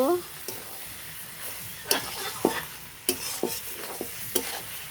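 Goat tripe sautéing in a pan, stirred with a utensil: a steady low sizzle broken by several distinct scraping strokes, close and fairly loud, with a brief voice at the very start.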